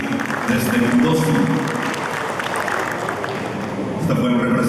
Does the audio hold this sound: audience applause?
yes